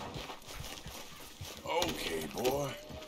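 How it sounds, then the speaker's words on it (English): A white horse in Red Dead Redemption 2 clops along with steady, close hoofbeats, and a voice talks over the second half. "That is one white horse."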